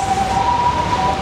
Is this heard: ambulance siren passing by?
yes